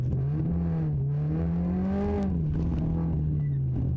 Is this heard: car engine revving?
yes